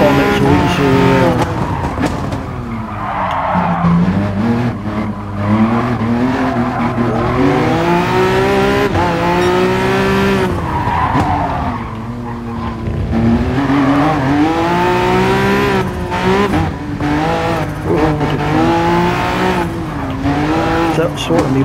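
Race car in Gran Turismo Sport on PS4, a loud engine revving up and down through gears with repeated tire squeals while cornering, someone talking over it.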